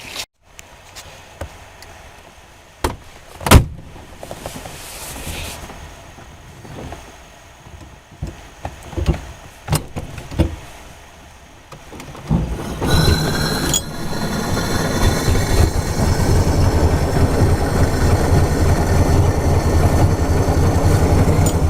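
A vintage car built at a Syracuse factory gives scattered clicks and mechanical clunks, then its engine starts partway through and settles into a loud, steady idle that continues to the end.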